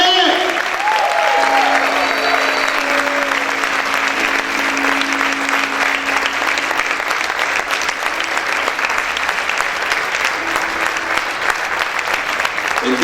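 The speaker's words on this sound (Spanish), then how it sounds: "Aplaude fuerte al Señor en esta hora." Sustained loud applause from a church congregation, many hands clapping steadily for several seconds, with a faint voice or tone briefly audible beneath the clapping.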